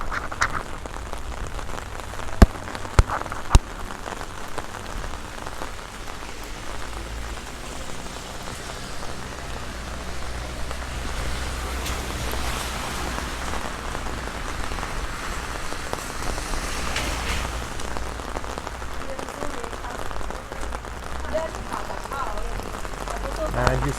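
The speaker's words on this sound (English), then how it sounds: "you see suddenly it has started to rain strongly" Heavy rain pours steadily in Medjugorje, a dense, continuous hiss of drops hitting the ground and an umbrella up close, with a couple of sharp knocks early on.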